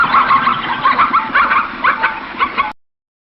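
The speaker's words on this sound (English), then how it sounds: "dog" A dog barks in a short run of several quick, bright yaps, close and clear, then stops abruptly.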